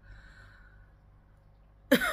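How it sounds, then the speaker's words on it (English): A single short cough from someone with a cold breaks out near the end after a stretch of quiet room hum, close and fairly loud. "just a slight cough."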